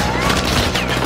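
Dense, rapid gunfire from Call of Duty Warzone, a fast fusillade of shots with a vehicle nearby, loud and continuous across a brief burst.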